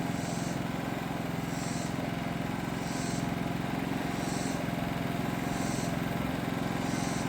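Small pull-start engine idling quietly just after starting, a steady even putter with a fast regular pulse running throughout, no talk.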